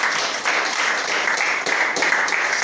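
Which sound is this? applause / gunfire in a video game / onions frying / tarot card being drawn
applause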